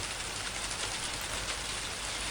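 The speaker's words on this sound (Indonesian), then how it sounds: "hujan pun turun." Rain falling on a steep, sandy mountain trail on Mount Semeru in East Java, a steady, dense hiss of drops that stays even and fairly faint with no voices.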